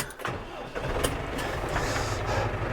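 Inside a barn, a tractor engine cranks and catches into a rough, close rumble that continues steadily, with some talk faintly mixed in.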